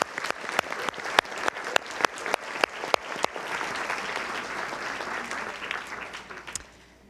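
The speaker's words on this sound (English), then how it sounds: "could we give these gentlemen and ladies a round of applause?" An audience at a lecture by author Julie Lythcott-Haims gives a round of applause: a few loud, separate claps at first, then a dense, sustained wash of many hands that swells and slowly fades.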